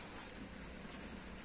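Light rain falls steadily outdoors, a soft even patter of drops on surfaces, faint and continuous with no talk.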